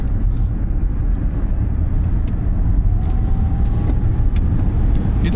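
An Audi e-tron electric car driving on a country road, heavy at about 2.5 tons, gives a loud, steady rumble of road and tyre noise throughout, with no one talking.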